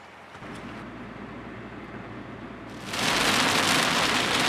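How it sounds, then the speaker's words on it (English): Rain comes down over the dry Cariri region of Brazil, first a moderate patter, then abruptly swelling into a loud, dense downpour roaring close by for the final seconds. "now we are deep inside the rain"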